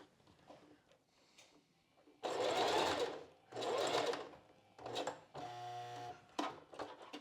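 A sewing machine stitches over bra boning in several bursts, a close, busy whirring rattle that stops and restarts with short pauses between runs.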